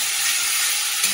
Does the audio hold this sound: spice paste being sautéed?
yes